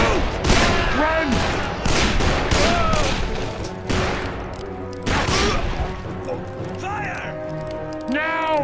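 Rapid bursts of gunfire and repeated shots ring out in a Western shootout in the video game Call of Juarez: Bound in Blood, mixed with shouting voices and game music throughout.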